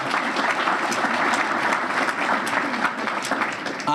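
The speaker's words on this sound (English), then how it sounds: "A big round of applause for her." An audience at a St. Patrick's Day luncheon for a boys and girls club gives a city councilor sustained, dense applause, a steady roar of many hands clapping for several seconds.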